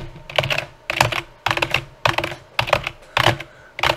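Buttons on an arcade fight stick are mashed in rapid bursts, about seven loud clusters of plastic clicks at close range with short pauses between them, and no speech.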